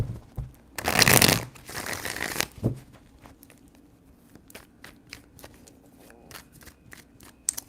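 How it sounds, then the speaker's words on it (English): A deck of tarot cards is riffled and shuffled close up in one loud flurry of papery clatter, then scattered soft taps and light handling clicks follow in a quiet room. "Three shuffles."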